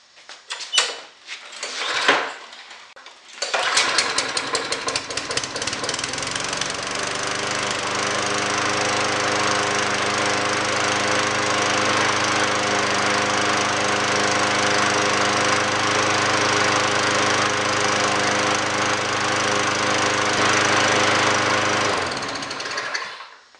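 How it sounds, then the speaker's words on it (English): A small engine with a freshly primed, previously emptied carburetor takes a few rough pulls and sputters before catching, then runs at a loud steady idle for about twenty seconds before cutting off. "it didn't start that easy, but I did have the carburetor completely emptied out"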